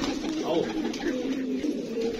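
Soft, low pigeon cooing runs steadily through the clip, several birds murmuring close by with a faint background hum.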